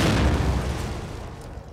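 A bomb goes off in The Evil Within, a close, heavy boom with a deep rumbling body that decays over under two seconds.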